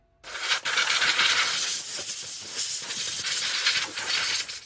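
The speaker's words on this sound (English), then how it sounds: "I'll take the air compressor and blow as much of this stuff out as I can" An air compressor nozzle blasting sanding dust off a wooden bench built from old pallets makes a loud, continuous close-up hiss of rushing air with a few brief dips, and no talk.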